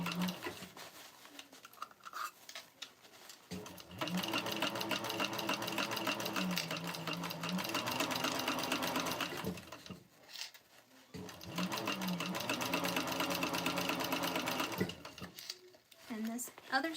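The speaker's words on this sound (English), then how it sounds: "you want to start your stitch at where the stitches end for the front" A sewing machine stitching a tote bag seam runs in two long steady bursts of rapid mechanical whirring and clatter, separated by short pauses, with a person talking quietly in the gaps.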